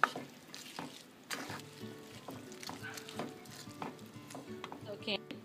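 A pot of tomatoes, coconut milk, onions and garlic is stirred over low heat, with soft scraping and light clinks of a utensil against the pot in an irregular rhythm, close and fairly quiet.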